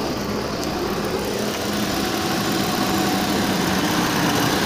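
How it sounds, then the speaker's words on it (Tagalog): A Kia Rio's air-conditioning compressor runs with the engine, giving a steady, loud idling hum and rumble that continues evenly throughout, with no talking. "Ibig sabihin, umandar na yung compressor."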